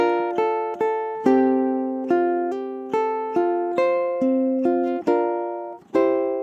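A ukulele plays a short melody of bright, ringing chords, each struck note decaying before the next in a steady rhythm.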